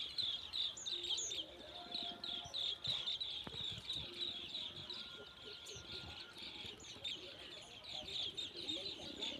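Many small birds in a flock perched in a line on farmland at evening chirp and tweet constantly in quick overlapping calls, with a soft outdoor rumble and a single dull knock beneath.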